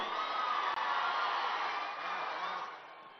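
A large meeting crowd fills the air with sustained cheering and a dense wash of noise while the audience stands to welcome the Chief Minister, steady and loud before fading slightly at the end.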